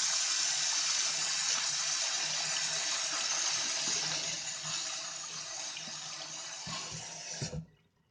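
Steady tap water rushes and splashes over freshly picked dandelion flowers in a sink for about seven seconds, loud and close, then cuts off abruptly with a brief gurgle.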